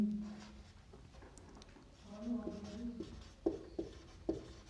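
Chalk or marker scratches on a board in a classroom during a chemistry lesson, with short strokes and a few sharp taps near the end, fairly faint and mixed with quiet room noise.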